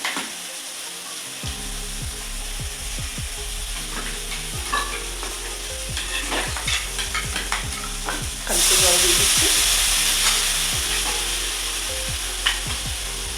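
Spice paste is added to a pan of frying mushroom curry, giving a close sizzle with repeated spoon scrapes and stirring taps, then a sudden louder hiss as liquid hits the hot pan.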